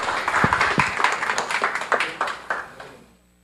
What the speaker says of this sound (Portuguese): uma salva de palmas para o professor Roberto Pereira